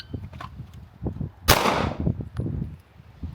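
A single sharp pistol report cracks out at an outdoor range during a doubles drill, loud and close, with a quick decaying tail, surrounded by quieter handling noises and faint voices.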